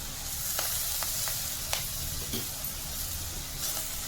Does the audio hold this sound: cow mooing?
no